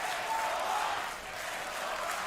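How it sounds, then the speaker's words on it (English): A large arena crowd at The International 2022 Dota 2 esports tournament applauds and cheers in a dense, continuous roar of clapping that swells briefly, dips slightly midway, then holds steady. "You hear the crowd very, very happy here."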